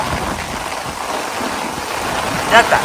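Heavy village downpour in strong wind, a steady broadband rush of rain with a couple of brief louder splashes near the end.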